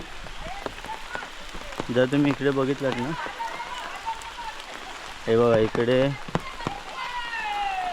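Unseasonal rain falls outdoors in Konkan during a wedding, a steady broadband patter throughout, with someone talking over it in bursts and other voices nearby.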